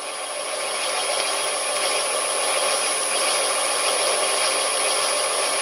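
An old lathe, newly driven by a VFD, drilling a hole as the cut grows harder: a steady, loud, broadband machining whir with a constant high whine, unbroken throughout.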